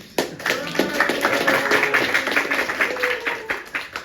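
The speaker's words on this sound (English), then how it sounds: "maybe another clap for her" An audience at the Pop-X Berlin event claps for the event host, Riley: a dense, steady patter of many hands lasting a few seconds, fairly close and without speech.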